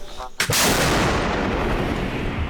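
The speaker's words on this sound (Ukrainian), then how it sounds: "Виконую постріл я, дергаю за таку от шморгалку і відбувається бадабон" A single heavy blast from an M109L self-propelled howitzer booms close by, followed by a long rumbling roar that fills the air and slowly fades.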